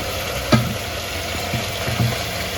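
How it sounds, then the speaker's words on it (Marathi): Onion tomato masala frying in a pan for a chicken dish, a steady soft sizzle with a sharp spoon scrape at the start and a few quieter stirring knocks after it. "हे आपण मिक्स करून घेऊया."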